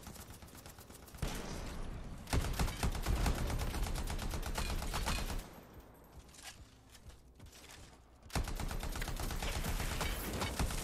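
Rapid automatic weapon fire in Anthem, long dense bursts of closely spaced shots, loud and close, broken by a pause with quieter mechanical clicks before firing resumes.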